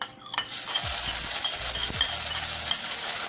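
Sliced garlic, five cloves, with four round-cut green chilies and curry leaves frying in hot oil: a steady, bright sizzle runs throughout, broken by a few scraping stirs of a spatula against the pan.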